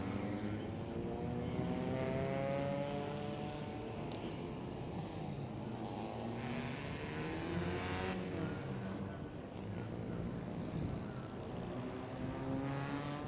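Race cars on the formation lap at Bira Circuit in Pattaya, a Toyo Tire Thailand series with Subaru and Evo entries: a dense, continuous engine drone with shifting pitch as a long line of cars passes, no voices.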